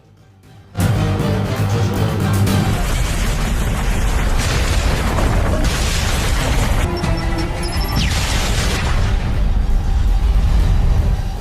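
A loud explosion of a building bursts suddenly after a brief quiet, followed by a long roaring rumble of crashing debris that stays dense and heavy to the end.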